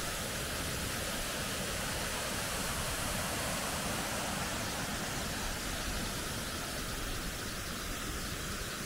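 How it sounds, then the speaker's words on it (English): A dense, constant roar of rushing water fills the whole stretch, loud and close, a fast mountain ghyll pouring over rocks near Stickle Tarn in Great Langdale. "hopefully you can hear me above the roar of the water"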